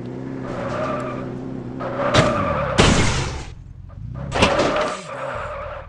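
A Mustang in a mobile driving game skids and crashes: an engine drones throughout while sharp tire screeches and two or three loud impact bursts cut in, close and loud, with no talking.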